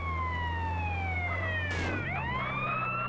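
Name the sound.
ambulance siren in GTA San Andreas video game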